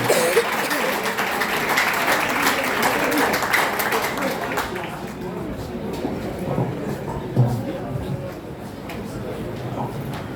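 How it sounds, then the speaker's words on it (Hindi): Applause from the audience at a Hindi poetry gathering (kavi sammelan) marking Dinkar Jayanti, loud and dense for about five seconds, then fading to scattered claps and room murmur. "आपकी जोरदार तालियों के बीच में अंकिता सिंह।"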